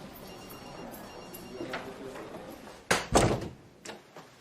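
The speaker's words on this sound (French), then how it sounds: "Ferme la porte." A door swings shut with a solid slam, a loud thump followed by a shorter knock, standing out alone against quiet room tone.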